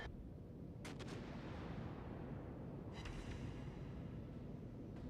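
Battleship main guns firing in the naval video game World of Warships: Legends, two broad booming salvos roughly two seconds apart, heard over a constant loud rumbling sea and engine bed.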